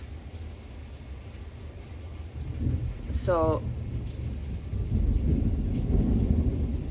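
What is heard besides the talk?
heavy rain pouring with thunder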